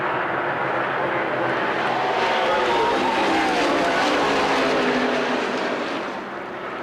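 NASCAR race cars at the 1998 Brickyard 400, a loud, sustained engine roar with a pitch that sweeps as the pack passes close by, fading slightly at the end.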